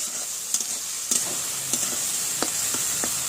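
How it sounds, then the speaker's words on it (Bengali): Spice paste with turmeric and a splash of water sautéing in a pan, a soft constant sizzle broken by several sharp spatula scrapes and knocks at irregular intervals. "দিয়ে ভালোভাবে কষে নেব মশলাটা"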